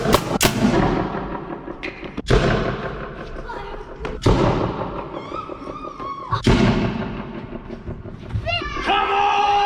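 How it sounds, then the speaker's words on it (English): Several loud pneumatic bangs fire in turn, each a sharp thump followed by cheering and shouting voices from an excited crowd. "The fastest time to put on 5 t-shirts shot from a t-shirt cannon."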